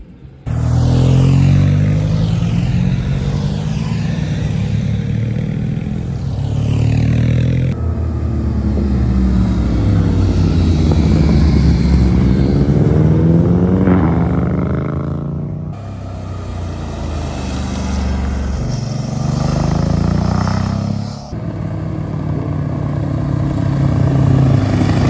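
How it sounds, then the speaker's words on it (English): Motorcycles riding past a corner on a mountain road, engines roaring loudly and continuously as bikes sweep by one after another, with rising and falling pitch as each passes close. "Just sat on a corner now though, and there's just bikes flying around."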